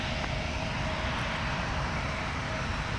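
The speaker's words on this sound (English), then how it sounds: "Here's Delta 1052 now departing runway 12 right for Atlanta, Hartsfield, Jackson." A Delta airliner, flight 1052, takes off from runway 12 right at MSP, its engines producing a steady, broad roar that stays constant and fairly loud throughout, with no voices.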